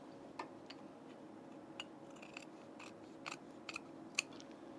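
Scissors snip through fabric while an unlined auburn blazer is being sewn, a quiet run of a few light, crisp cuts spread out and ending in one sharper snip.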